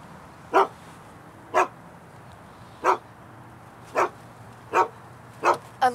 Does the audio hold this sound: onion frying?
no